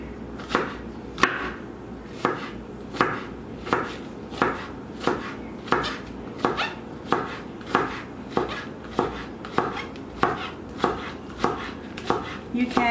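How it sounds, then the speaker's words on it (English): A knife chops green onions on a cutting board in steady, evenly spaced thuds, each blow a crisp knock, repeating alone for the whole stretch. "we'll go ahead with chopping some green onions here for the mixture"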